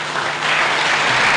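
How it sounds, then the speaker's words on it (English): An audience at a motivational event applauds loudly, steady dense clapping sustained without a break and with no voices over it. "please clap for yourself"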